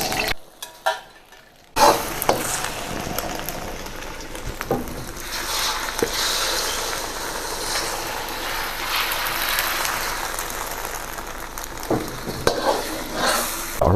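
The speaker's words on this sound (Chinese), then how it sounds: "煎鸡蛋也得大点油" Eggs fry in a generous amount of oil in a pan, giving a steady, close sizzle with occasional stirring scrapes, after a few brief knocks at the start.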